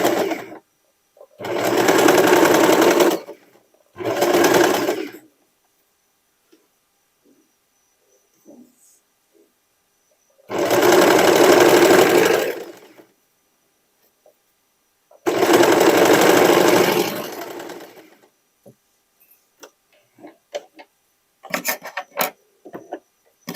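Sewing machine stitching a dress sewn from sweatshirt and denim scraps, loud close whirring bursts of a few seconds each separated by quiet pauses, with faint handling clicks near the end.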